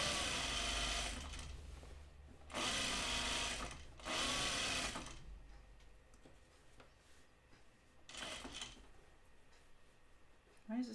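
A sewing machine runs in several short bursts while understitching the seam allowance on a Bleuet dress, with loud close runs separated by pauses and a few quieter stretches.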